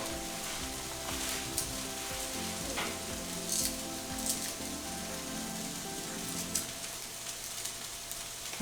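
Chopped onion sizzles steadily in a hot pan while being cooked for plant-based quesadillas, a loud continuous crackling fry with occasional sharper pops and no talking.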